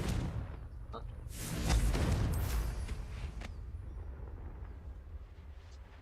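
Confringo blasting spell explosion in a video game, a sudden booming burst with a sharp crackling flare that swells then fades into a lingering rumble.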